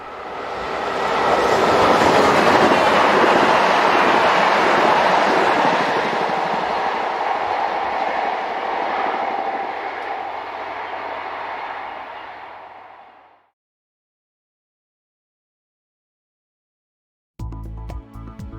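An SNCF BB 25500 electric locomotive hauls a passenger train from Lille past at close range, a loud rushing roar of wheels on rail that fades gradually and cuts to silence before a brief new sound starts.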